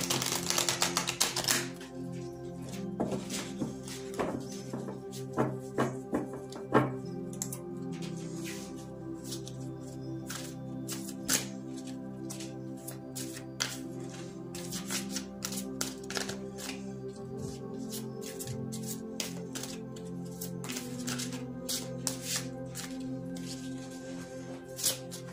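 Tarot des rêves de Gaïa cards being shuffled by hand, a long run of close, crisp riffling and tapping clicks in uneven bursts, with a denser flurry at the start.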